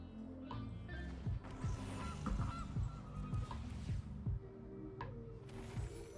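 A goose in the card game MTG Arena honks repeatedly in a rough, nasal rhythm, about a dozen loud calls over several seconds layered on faint game music, with no talking.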